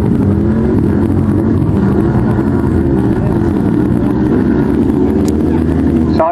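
Sidecar motorcycle engine running steadily at the Farleigh Castle scramble, a loud continuous outdoor drone with engine noise layered throughout, a commentator's voice faintly mixed in.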